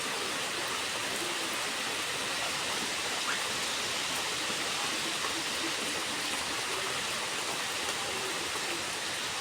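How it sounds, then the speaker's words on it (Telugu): Heavy rain pours down steadily in a dense, unbroken roar that holds at the same loudness from start to finish, with no voices. "వర్షం కూడా చాలా గట్టిగా వస్తుంది, అదిగోండి."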